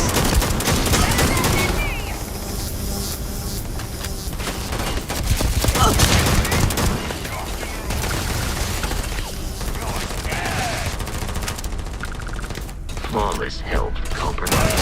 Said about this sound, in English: I guess I have to shoot my way out.